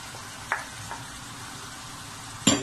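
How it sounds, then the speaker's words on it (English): Diced Irish potatoes go into a pan for chicken pie sauce, giving a low, steady sizzle with two sharper utensil knocks and stirring sounds, no voices. "So now I'll go ahead and add my already diced Irish potato."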